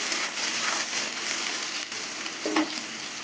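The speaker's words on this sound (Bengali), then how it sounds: "পেঁয়াজ দিয়ে নুন দিয়ে দেবো পেঁয়াজটা কিছুক্ষণ ভেজে নেবো" Chopped onion with salt frying in mustard oil in a pan, a close, dense and steady sizzle with faint stirring, running unbroken throughout.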